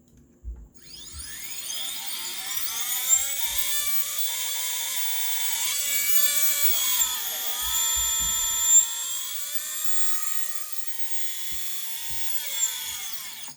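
Mr Steele Silk V.3 motor running on a bench test, a steady high-pitched whine that spins up and holds with slight pitch wavers, alone and close for about thirteen seconds.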